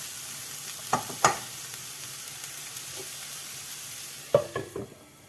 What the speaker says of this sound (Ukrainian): і теж трішки обсмажуємо все разом